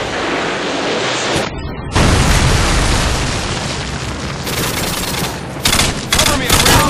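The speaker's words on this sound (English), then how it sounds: "Predator missile incoming." Predator missile strike explosions in a video game: loud, continuous booming blasts layered with rapid gunfire, with brief dips before the roar swells again.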